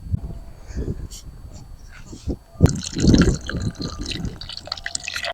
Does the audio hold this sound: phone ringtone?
no